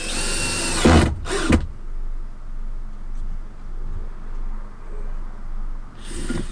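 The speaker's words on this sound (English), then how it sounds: "just again whack as many screws as you like in, just to give it that strength" A power drill drives screws into the roof battens of a van while overhead storage cupboards are built, giving two close, loud bursts early on and another at the end, with a quiet hum between.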